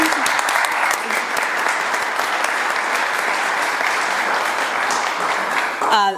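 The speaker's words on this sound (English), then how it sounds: "Let's give a real round of applause for that." A crowd claps steadily and loudly throughout, a dense sustained round of applause with no pause.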